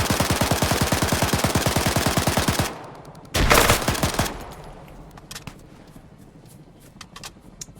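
Automatic gunfire in the video game Arma 3 during a Cold War operation: a long rapid burst of rounds, then a sharp loud volley, followed by scattered fainter shots in a quieter stretch.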